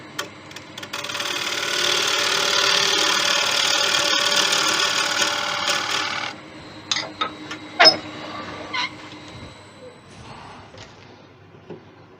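Wood lathe running steadily as a turning tool takes small nibbling cuts to fit a mortise in a turned wooden Christmas angel, a continuous close whir for about six seconds, then stops, followed by a few scattered clicks and knocks.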